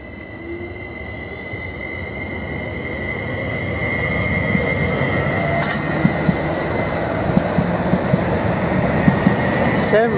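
A Class 387 electric train pulls out of Ely station toward Stansted Airport, a steady rumble of wheels and traction hum building gradually with sharp rail clicks and faint squeals as it gathers pace.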